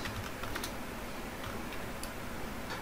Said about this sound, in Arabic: تعالوا معايا نبدأ نكتب كود للحلقة ديت